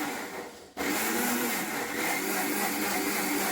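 Mixer grinder blending milk and banana for a banana shake, a loud steady motor whir starting abruptly after a short quiet moment and running continuously close by.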